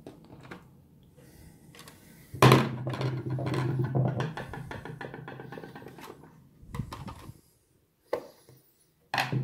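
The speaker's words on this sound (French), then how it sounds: "Ce que vous avez entendu, c'est mon tournevis qui a roulé." A screwdriver clatters and rolls across a wooden table with a burst of rattling taps, then settles into scattered faint knocks.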